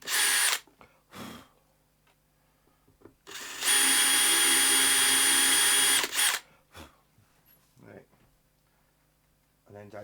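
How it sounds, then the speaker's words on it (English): A power drill drives screws into the bridge of a 12-string guitar during a repair, whirring in short bursts and then one long sustained run, with speech between the bursts. "I just try and rattle a screw straight in the top."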